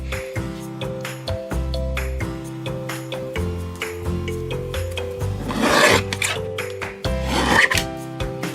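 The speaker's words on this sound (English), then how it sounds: "Now I'm going to trim it down to 1 inch." A paper trimmer cuts silver heat-embossed cardstock down to a one-inch strip for a handmade card, a steady rasping slide with rhythmic clicks and scrapes running the whole time, close and fairly loud, without talk.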